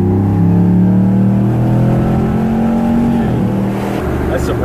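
A 2015 RAM 1500 pickup on large tires speeds up on a 45 mph road, its engine a steady, smooth low drone with a rising tone, heard from inside the cab with talk over it throughout.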